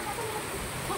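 Heavy monsoon rain pours onto a flooded road in More Vasti, Chikhli, Pune, a dense unbroken hiss of water filling the moment without pause.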